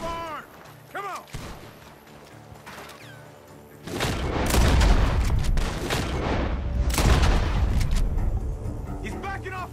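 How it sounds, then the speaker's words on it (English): Heavy gunfire from a barn in Red Dead Redemption 2 erupts in rapid bursts after a quieter stretch of mechanical clicks, loud booming shots overlapping continuously like a fierce firefight. "Gunshots are coming from that barn."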